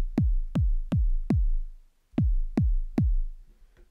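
Synthesised drum and bass kick drum built in Serum with erosion for grit, seven punchy booming hits with a short pause after the fourth, close and dry with no talk.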